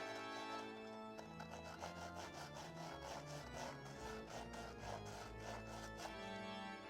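A knife saws back and forth through crisp Oreo cookies, cutting them in half, producing a steady run of rasping strokes, close and fairly loud, with no talking.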